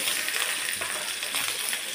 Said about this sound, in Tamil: தாளிக்கலாம்.